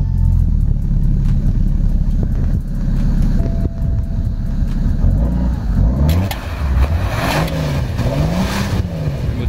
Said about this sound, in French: je vais juste vous faire un petit démarrage pour vous faire écouter le son du 6 cylindres diesel